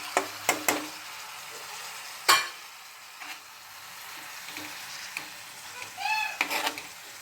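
Chopped green amaranth and moong dal are stirred in a hot pan, giving a soft sizzle with a few sharp scraping clicks of a spoon against the pan and a brief clatter near the end.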